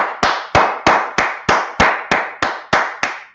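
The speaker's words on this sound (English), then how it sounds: "Let's clap it up for the Lashawan Qadash." An audience at a class at ISUPK headquarters claps in unison, about ten sharp, evenly spaced claps with reverberant tails ringing in a hall, no speech over them.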